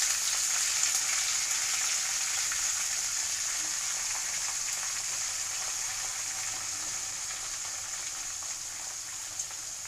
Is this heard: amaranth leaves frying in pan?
yes